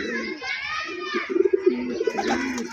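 Pigeons coo softly at a loft, their low throaty calls mixed under nearby people talking and children's voices throughout.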